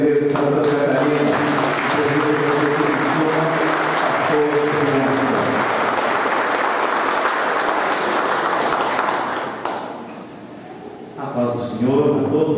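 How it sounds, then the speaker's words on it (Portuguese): An audience at a book launch event in an Assembly of God church breaks into sustained, loud applause that fades after about ten seconds, with a voice speaking over it. "peço que o recebamos com uma calorosa salva de palmas"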